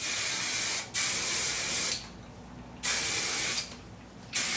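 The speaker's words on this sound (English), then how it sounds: "this grocery store ass medium hold hairspray is my favorite because it's not like, doesn't make my hair like a rock" Medium hold hairspray hisses from an aerosol can onto hair in three bursts, a brief one then two longer steady sprays with short pauses between, close and clear.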